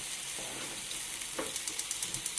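Thin pork chops laid into a hot pan for breakfast, giving a steady broadband sizzle and hiss with small crackling pops that grow more frequent toward the end, close and alone with no voices.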